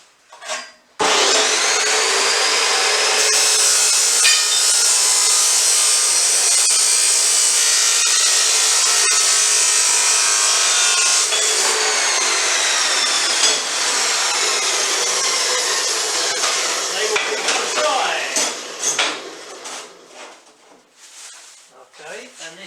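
Wooden board being cut for a Nissan Patrol dropdown table, a loud continuous power-saw whine running steadily for most of the clip before tapering off near the end.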